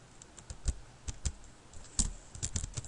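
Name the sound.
typing code on a computer keyboard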